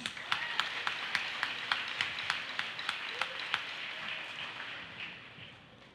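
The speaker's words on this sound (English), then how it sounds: "Everyone, a warm applause for our completers." A crowd applauds graduating Grade 10 completers at a school completion ceremony: a quiet, steady patter of rhythmic claps over a soft wash of hall noise that fades toward the end.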